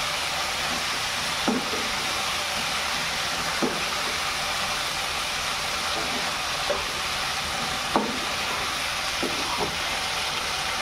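Paneer chilli stirs in hot oil in a pan, a steady wide sizzle with occasional soft spatula scrapes and taps spaced a couple of seconds apart, no talking.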